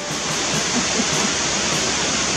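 A waterfall at Whistler pours in a steady, loud, close roar of rushing water, unbroken from start to finish with no voices.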